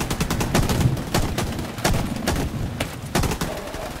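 Rapid gunfire in The Division 2 open beta: a sustained run of loud, closely spaced shots with a few heavier bursts, with faint voices at times.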